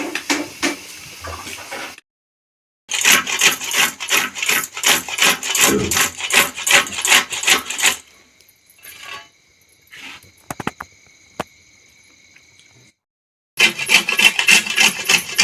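Coconut is grated by hand in a home kitchen, giving rapid rhythmic scraping strokes in loud bursts separated by pauses and faint clattering.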